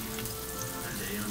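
Pork chops frying in an already warmed pan, a steady close crackling sizzle throughout the short moment.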